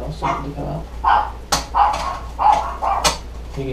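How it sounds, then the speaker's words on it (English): Small dogs bark in a quick series of sharp yips and woofs, about six close, moderately loud barks in a few seconds over a quiet indoor background. "You can hear my dogs in the background."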